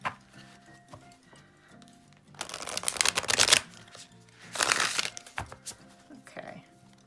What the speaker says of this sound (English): I'll probably mostly overhand shuffle this one because of the size and because of the thickness.